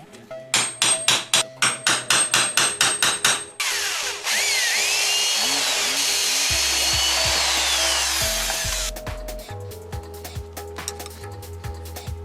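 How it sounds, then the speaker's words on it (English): A rapid series of sharp metallic hammer taps center-punches a steel file being made into a knife, then a drill with a 7/16 bit grinds steadily through the metal for several seconds before more clanks follow. "I'm going to center punch them and drill them with a 7/16 drill bit"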